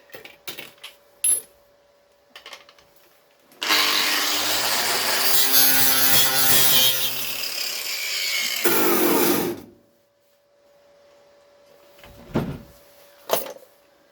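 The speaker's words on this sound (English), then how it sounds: "Let's get a wire brush on that, clean it up, and see what it looks like." Wire brush scrubbing corrosion off the nearside door pillar of a Ford Escort MK1 under restoration, a sustained loud abrasive rasp lasting about six seconds, with faint clicks and taps before and after.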